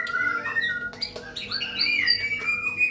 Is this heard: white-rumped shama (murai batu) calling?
yes